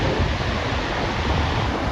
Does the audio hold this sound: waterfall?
yes